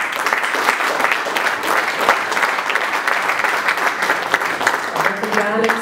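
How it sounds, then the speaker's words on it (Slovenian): An audience applauds the last group at a business competition event, loud sustained clapping throughout with a crowd murmur and some talk underneath. "In zaploskajmo še zadnji skupini"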